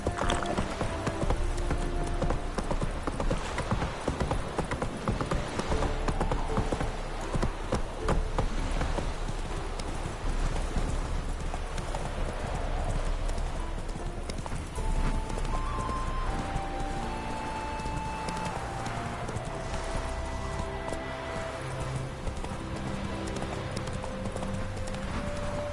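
Roach the horse gallops in The Witcher 3 video game, a steady rapid clip-clop of hooves running continuously under background music and ambient game sound, with a faint whinny.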